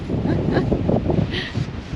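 Strong wind buffets the microphone outdoors at a roadside stop on a motorcycle trip, a continuous low rumble that stays loud throughout, with a person talking over it.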